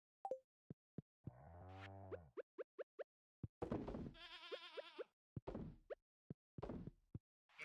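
A sheep in a modded chef farming game gives two clear, wavering bleats amid a string of sharp plops and knocks, each sound crisp and isolated against silence.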